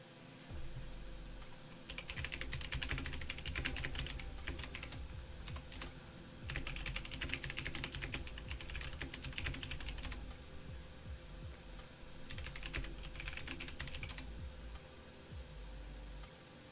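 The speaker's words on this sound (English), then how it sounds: "How loud is my typing on the Discord mic?" Rapid clattering keystrokes on a computer keyboard come in three dense bursts with short pauses between, close and fairly quiet over a low steady hum, with no voices.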